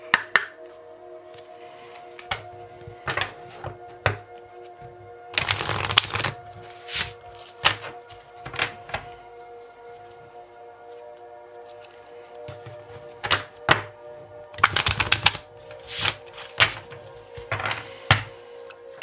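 A tarot card deck being shuffled, with two long riffling bursts and scattered shorter card flicks and taps between them, close and fairly loud over a faint steady background hum.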